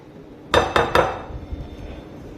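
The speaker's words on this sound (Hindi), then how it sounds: "अच्छे से मैं कप को साफ कर लूँगी।" A spoon clinks against a cup being scraped clean of yeast and warm milk in a home kitchen: three quick, bright ringing taps in a row, then quiet room tone.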